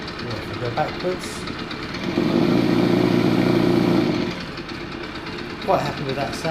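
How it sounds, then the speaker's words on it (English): A simulated engine from the sound module of a 1/6 scale New Bright Jeep TJ Rubicon RC conversion revs in one sustained burst of about two seconds, louder than the idle around it, with someone speaking before and after. "I can just rev the engine independently"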